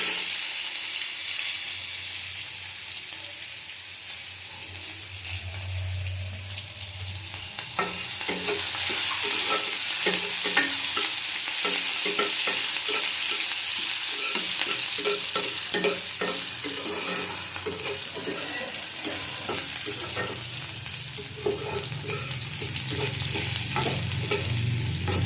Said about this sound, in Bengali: একটা গোটা পেঁয়াজ দিলাম।